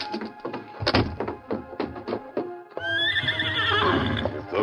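In a 1952 western radio drama, hooves clip-clop in a run of sharp, close knocks, followed by a long, loud horse whinny.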